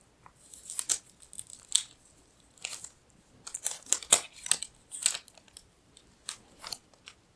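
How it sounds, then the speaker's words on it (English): Paper wrapping being peeled and torn off a OnePlus 12R phone, with close, crisp crinkling and ripping in irregular bursts over several seconds and no talking. "Remove this nice paper."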